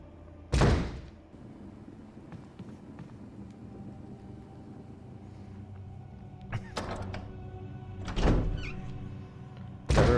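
Heavy doors in the Resident Evil HD Remaster video game open and shut with several loud thunking slams spaced apart, between quieter ambient game noise.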